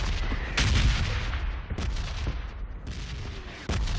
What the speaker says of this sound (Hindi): बम फूट रहे भाई, अंदर हो जाओ